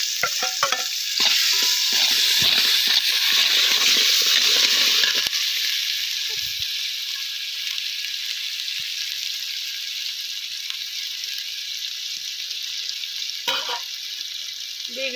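Onion masala paste frying and being stirred in a pan for country chicken biryani, a loud hissing sizzle with scraping stirs early on, settling into a steady quieter sizzle, with brief speech.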